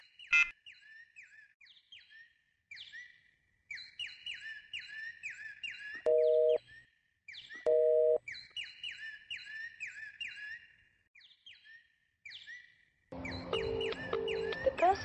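Two short, steady telephone busy-tone beeps sound near the middle of the clip, separated by a brief gap, amid busy chirping and whistle-like tones that fill the rest.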